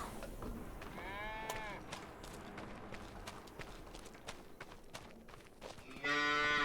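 Cows moo repeatedly in a farm survival video game, with harmonic lowing calls rising near the start and a loud, close moo at the end over a steady ambient bed of game sound.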